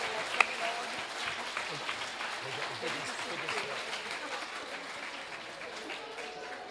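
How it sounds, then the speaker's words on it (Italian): A seated audience applauds steadily and densely at a Michael Morpurgo War Horse event in Italy, a sustained wash of many hands clapping. "Quindi applaudiamo accogliendo anche la BBC"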